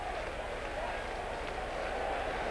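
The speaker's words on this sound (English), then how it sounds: "We enjoyed just hearing the crowd" A baseball stadium crowd at a Cleveland versus Brewers game, a steady distant murmur and roar of many voices with faint clapping mixed in.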